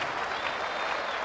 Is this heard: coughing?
no